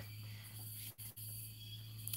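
Steady, dense chirping of insects fills a night-time Ecuadorian cloud forest, a continuous shrill drone that drops out briefly twice before resuming, with no talking.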